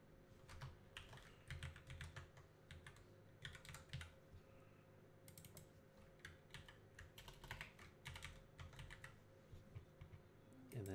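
Fingers type on a computer keyboard in quick, quiet bursts of clicky keystrokes, pausing briefly between runs over a faint steady hum.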